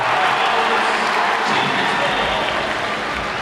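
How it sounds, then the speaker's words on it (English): A big crowd at a 2026 Division 2 boys basketball state championship in Lowell, Saint Mary's against Masconomet, makes a steady, loud roar of cheering and noise that fills the whole stretch. "There's a fantastic crowd that has made their way here to Lowell tonight."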